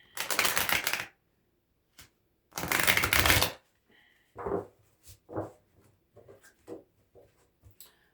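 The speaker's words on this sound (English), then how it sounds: "One more little shuffle." Tarot cards riffle and shuffle in two loud close bursts of about a second each, followed by softer scattered taps and slides of the deck.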